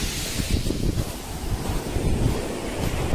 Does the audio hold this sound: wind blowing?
yes